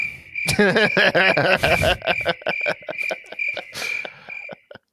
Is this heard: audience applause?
no